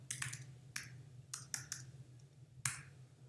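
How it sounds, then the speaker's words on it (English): Computer keyboard keys click in a quiet room, a handful of crisp, separate taps spaced irregularly over a few seconds, the last one a little sharper, over a faint steady low hum. "Hit return on the keyboard."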